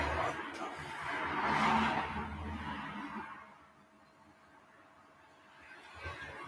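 A car passing outside, heard faint and muffled through walls as a swelling whoosh that peaks and slowly fades, with a smaller rise at the end.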